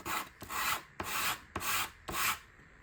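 Sandpaper rasps in five steady back-and-forth strokes as burrs are sanded off a vintage Tamiya Grasshopper wheel, close and clear with no talk.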